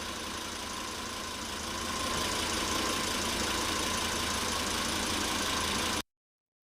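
Steady idle of a Volvo S60 2.5T engine during an engine flush, a continuous close, loud mechanical hum that swells slightly and then cuts off abruptly near the end.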